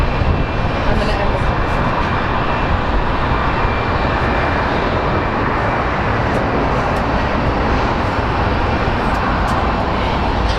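Loud, steady roar of an Airbus A319 airliner near Phoenix Sky Harbor airport, close and constant for the whole stretch, with people talking underneath.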